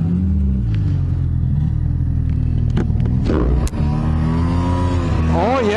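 A snowmobile engine running rough on only one cylinder drones steadily and loudly close by, its pitch climbing slightly near the end.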